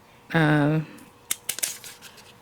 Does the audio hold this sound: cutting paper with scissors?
yes